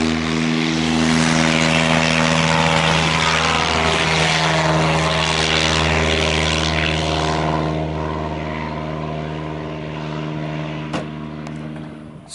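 A stunt plane's propeller engine droning loudly and steadily in flight, a close, continuous buzzing roar that eases slightly toward the end, with no speech.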